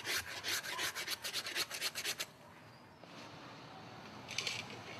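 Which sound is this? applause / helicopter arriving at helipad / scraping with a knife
scraping with a knife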